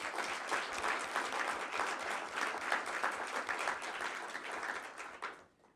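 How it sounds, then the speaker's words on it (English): A roomful of NASA staff applauding at an end-of-year all-hands meeting, sustained hearty clapping with sharp individual claps, fading out at the end. "So let's give ourselves a big round of applause."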